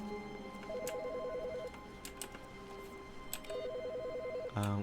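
A telephone rings in The Stanley Parable, a repeating electronic warble in two bursts with a steady hum of game ambience underneath and no talk.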